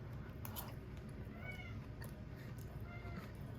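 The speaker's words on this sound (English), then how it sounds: "But there's my cat." Pet cat meowing faintly a few times in a kitchen, soft rising cries over a steady background hum.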